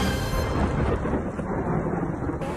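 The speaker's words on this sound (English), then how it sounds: "Okay, it's raining." Heavy rain pours steadily with a deep rumble of thunder rolling underneath, a dense, continuous roar with no voices.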